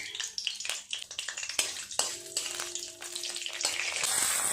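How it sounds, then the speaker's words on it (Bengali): Bay leaf, dried chilli, cinnamon, cloves and cardamom spitting and crackling in hot oil in a wok as tempering for a fish kalia, with bursts of popping that settle into a steady, close sizzle. "তেল দিয়ে দেবো পরিমাণ মতো। ফোড়নে দেব তেজপাতা, শুকনো লঙ্কা, দারচিনি, লবঙ্গ, এলাচ।"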